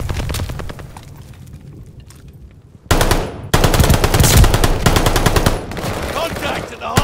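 Automatic gunfire in the multiplayer shooter Call of Duty Vanguard, rapid bursts at first, then a sudden loud close barrage with booming impacts and continuous firing, with voices calling out over the battle.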